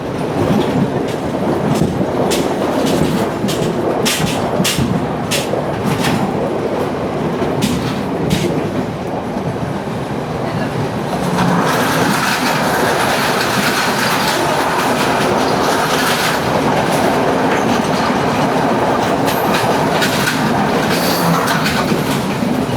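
A train rolls along the Indian Ocean coast near Colombo with a loud, continuous rumble and clickety-clack of wheels on rail joints, sharp rhythmic clicks early on, then a broader hissing roar in the second half.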